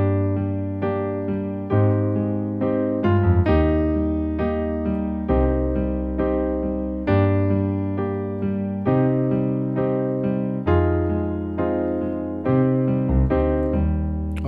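Piano playing variation two of a song from the beginning, a steady stream of repeated chords and bass notes at full tempo, continuous and close with no talking.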